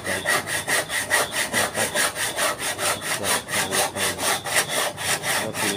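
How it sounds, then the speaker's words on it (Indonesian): A hand saw cutting through wood for a small stall bench, a steady run of about two rasping strokes per second, loud and close, with a brief spoken phrase over it. "saya masih menggunakan cara manual atau gergaji tangan karena hasilnya lebih rapi"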